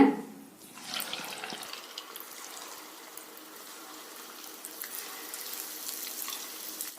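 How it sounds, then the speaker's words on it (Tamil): Wheat bonda balls frying in hot oil, a steady close bubbling sizzle after an initial louder burst, continuing alone without talk. "இதே மாதிரி எல்லா போண்டாவையும் சுட்டு எடுத்துடலாங்க"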